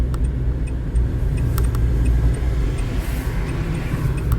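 A blue convertible car driving past on a road, a steady close engine and tyre rumble throughout, with no voices.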